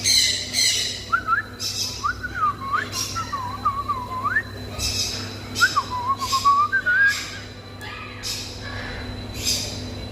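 Pet parrots in an aquarium shop whistle repeatedly in rising and falling melodic phrases, close and fairly loud over a low steady hum, with short squawky bursts between whistles.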